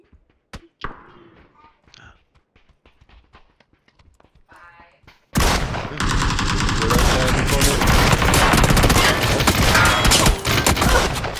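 Gunfire in the battle game PUBG: after a few quiet seconds of faint clicks and movement, a sudden loud burst of rapid automatic shots and hits runs continuously to the end, dense and close.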